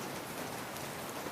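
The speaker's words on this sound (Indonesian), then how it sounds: "Lihatlah hujan ini. Allah turunkan setetes demi setetes." Steady rain falls in a dense, even wash of drops, close and constant, with no voices.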